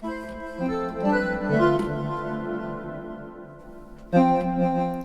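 A Novation Summit synthesizer plays a short rising phrase through its normal delay, the tones repeating and fading as echoes trail behind, followed by a fresh chord near the end.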